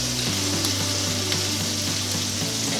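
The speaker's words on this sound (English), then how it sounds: "Now I'm just searing the fat cap again to make that nice and crispy." A wagyu steak's fat cap sears in a hot pan, giving a steady, close, loud sizzle that runs without a break.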